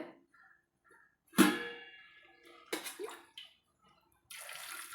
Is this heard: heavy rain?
no